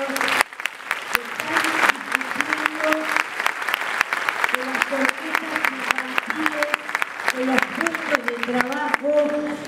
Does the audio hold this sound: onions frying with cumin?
no